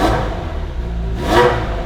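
A Ferrari 355 with its 3.5 litre V8 and exhaust valves closed idles with a deep burble, then rises in a quick rev that swells and falls back, close and steady without talk.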